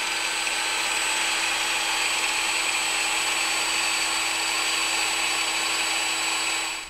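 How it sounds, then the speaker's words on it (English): A cordless Ryobi P420 angle grinder runs unloaded at about 6,500 RPM, giving a loud, steady high-pitched motor whine that holds evenly for several seconds before cutting off at the end. "So the last grinder we're gonna test is the cordless Ryobi P420."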